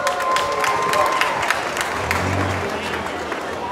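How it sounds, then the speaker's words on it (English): A crowd at a demolition derby decorated-car contest applauds and cheers for a green 1959 Lincoln Continental, bursts of clapping and scattered whoops over a low murmur, with a brief engine-like rumble near the middle. "Let's give Sean a round of applause"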